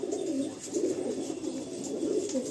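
A male Kalshira pigeon coos close by in repeated soft, throaty, rolling phrases, the low burbling calls rising and falling in a steady rhythm with no talk.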